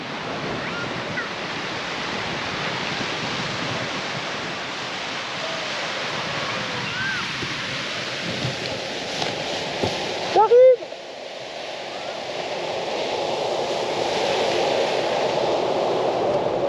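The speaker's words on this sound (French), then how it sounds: "c'est du vent laminaire, hein, on est en bord de mer" Steady laminar wind at the seaside on a paragliding launch site, a continuous broad rushing hiss that holds for over fifteen seconds with one brief louder gust or buffet midway.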